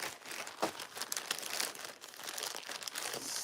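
A paper info sheet is crinkled and stuffed away, giving soft, close, continuous crumpling and rustling for a few seconds with no talk over it.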